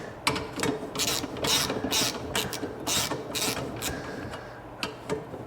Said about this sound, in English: we'll just grab a ratchet and we'll just thread this guy in